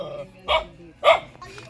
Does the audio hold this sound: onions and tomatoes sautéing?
no